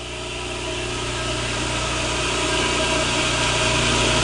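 The motor of a Semitool 870 spin rinse dryer runs at speed in a steady, even whir and hum that builds slightly in loudness, close by with no speech.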